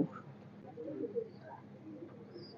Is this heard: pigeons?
yes